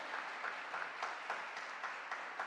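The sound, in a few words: church congregation applauding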